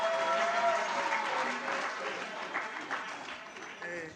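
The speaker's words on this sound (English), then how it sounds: "can we give a round of applause to the DM and Kochi?" A round of applause at a university public lecture, steady clapping from the audience throughout, with a voice briefly audible within it.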